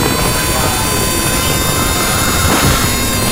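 A constant loud roaring drone of wind and engine noise, steady and unbroken, as heard from inside a motorcycle helmet at speed.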